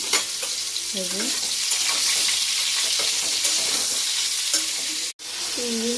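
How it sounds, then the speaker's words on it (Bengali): Ridge gourd frying in a pan gives a steady, loud sizzle close by, with brief stirring scrapes throughout and a very short break near the end. "চলো ঝিঙেটাকে জাস্ট ভেজে নিয়ে তুলে নিই"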